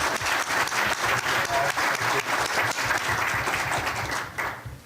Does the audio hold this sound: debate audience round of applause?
yes